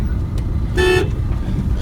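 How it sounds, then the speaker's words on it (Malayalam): A single short car horn toot from a vehicle on the road sounds once, clear and fairly close, over a low traffic rumble while a person talks. "ഹോൺ അടിച്ചല്ലേ"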